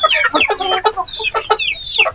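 A Black Australorp hen clucks repeatedly up close while laying, a busy run of loud, choppy squawks and clucks with brief pauses between bursts.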